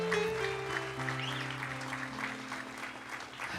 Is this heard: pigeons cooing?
no